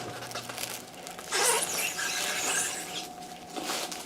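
Stretch wrap film squeals and crackles as it is pulled off the roll around a pallet stacked with mushroom-farm substrate blocks, a close, continuous screeching rasp over background hum.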